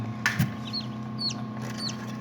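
Small chicks cheep in short, high chirps, a few scattered peeps over a steady low hum, with a couple of soft knocks early on.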